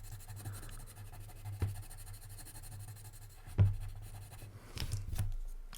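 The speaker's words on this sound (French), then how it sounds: "Vous commencez avec le jaune, vous remplissez" A pencil or marker scratches softly and steadily while a triangle is filled in with yellow color by hand, close and quiet over a low hum, with a few louder taps and knocks.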